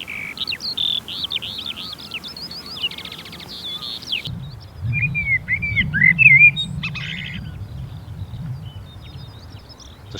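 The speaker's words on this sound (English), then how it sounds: "the burrows will be covered by the sound of the glorious skylarks" Skylarks singing over open grassland, a bright rapid trilling warble close by at first, then fainter chirps and fragments over a low wind rumble.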